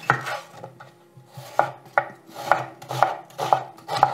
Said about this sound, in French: J'espère que tu n'entends pas trop le bruit de la planche à découper.